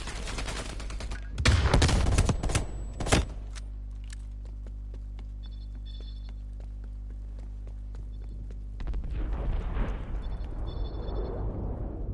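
Gunfire and a blast in the video game Call of Duty: Cold War, with two loud bursts of sharp reports near the start, then a steady low hum, and a rougher rumbling wash of noise rising toward the end.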